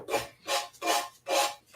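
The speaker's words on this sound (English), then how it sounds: "I'm just gonna sand. Sand and sand and sand." Close, rhythmic rasping of sandpaper on wood, four or five back-and-forth strokes in a steady rhythm with no voices.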